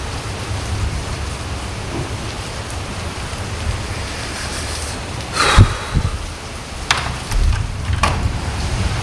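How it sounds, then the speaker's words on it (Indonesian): Steady heavy rain falls on and around a tent during a camping trip in a storm, a loud constant wash with a few sharper impacts and rumbling thunder midway. "tuh kan, tuh di luar hujan."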